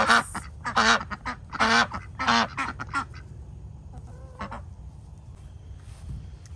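Garden ducks quack loudly and close by in several bursts of repeated calls, then fade into softer, scattered quacks over a low background rumble.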